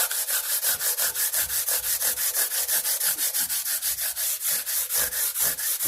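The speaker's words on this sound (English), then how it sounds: "I get my tool like this, 120 grit sanding pad, put the tool down on here, and I just start at one end and I'll work my way across" A 120 grit sanding pad is rubbed back and forth across guitar frets in a quick, even rhythm of raspy strokes, loud and close, with no voices.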